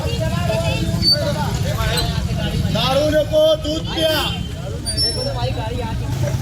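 Street traffic with buses and cars in Dharashiv during a 31 December public event, a steady rumble of vehicles and a hiss like an air brake beneath a loud crowd and continuous talk.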